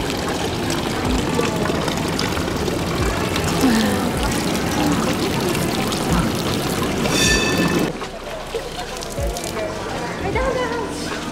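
A public water fountain in Bern pours and splashes steadily, close and fairly loud, with people talking over it and a sudden drop in level near the end.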